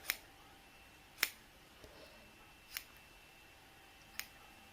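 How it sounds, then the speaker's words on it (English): Scissors snip through wool roving for needle felting, four or five sharp, crisp cuts spaced about a second apart, close and isolated against a quiet background. "I am just going to cut straight across."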